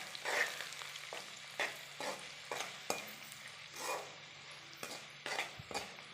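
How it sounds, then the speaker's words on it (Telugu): Spice and salt mixture being stirred into a hot frying pan for fried rice, with repeated scraping strokes of a spoon over steady sizzling, close and moderately loud, no talking. "యాడ్ చేసుకొని బాగా మిక్స్ చేసుకోవాలి."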